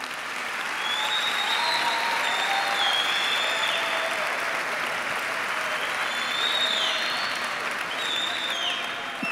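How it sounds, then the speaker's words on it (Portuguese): Steady, dense applause from a conference audience in Lisbon, sustained loud clapping for the whole stretch without pause, with no voices standing out above it. "pedia uma salva de palmas para todos os voluntários que estão aqui com vocês"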